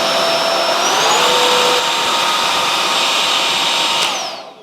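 A Bosch Unlimited 7 ProHygienic Aqua cordless vacuum runs with a loud, steady motor whine and airflow hiss, shifting pitch upward early on, then winding down near the end, with no voices.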